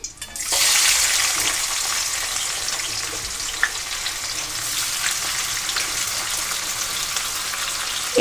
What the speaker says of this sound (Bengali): যেই তেলে পকোড়াগুলো ভেজে তুলে নিলাম সেই তেলের মধ্যে আমি এখানে দিয়ে দেবো পেঁয়াজ কুচি